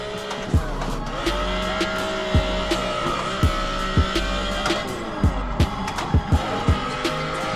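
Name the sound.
BMW E46 wagon drifting with tires squealing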